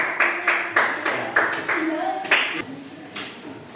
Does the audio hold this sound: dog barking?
no